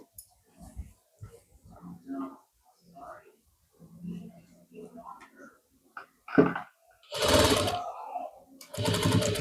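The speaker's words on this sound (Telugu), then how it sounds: "ఇప్పుడు ఈ కుచ్చు పైన కూడా మనం ఇలా ఒక కుట్టు పెట్టుకుందాం" A sewing machine stitches a pleat on a blouse back, running in short loud whirring bursts near the end after a stretch of quiet talking.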